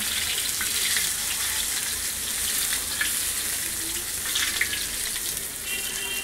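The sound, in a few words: Bhagda and Bombil fish frying in oil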